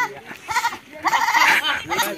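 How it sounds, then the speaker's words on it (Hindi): A goat bleats in several short, loud, wavering calls close by at a lakeside outdoor spot, with bits of voices around it. "बकरी को पकड़"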